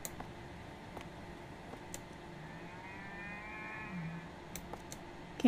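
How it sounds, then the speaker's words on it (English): A cow mooing in the horror video game Night Delivery, one drawn-out low moo at moderate distance over a quiet ambient hum, with a few faint ticks around it. "Can't see anything, but moo!"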